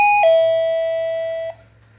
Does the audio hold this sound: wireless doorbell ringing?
yes